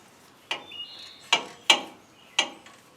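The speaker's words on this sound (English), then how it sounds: "I'm using a 3/8 ratchet just to kind of cinch them up." A 3/8-inch ratchet tightens the front wheel bearing bolts on a 2022 Toyota Tundra, giving four sharp, close clicking bursts spaced about a second apart, with a faint metallic whir between them and no talking.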